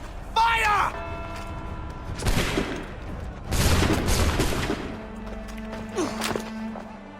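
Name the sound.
musket volley gunfire in the video game Assassin's Creed 3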